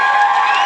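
A classroom of students cheering together, a loud, steady burst of massed young voices, brief and sustained throughout.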